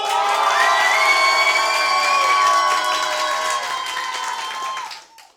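Crowd at an amateur improv theatre show claps, cheers and whoops loudly for several seconds, with high shouts and whistles above dense applause that then fades out quickly.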